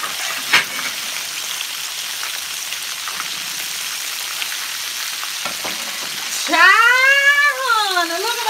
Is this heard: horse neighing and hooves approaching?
no